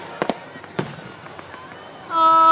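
Fourth of July fireworks burst in sharp cracks and pops, a few separate bangs in quick succession, with a crowd murmuring nearby and a steady tone coming in at the end.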